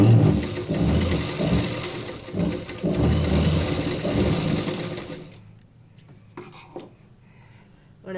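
A sewing machine stitches a straight seam on a blouse with a loud, close, continuous rattling whir for about five seconds, then stops, leaving a few quieter clicks and handling noises.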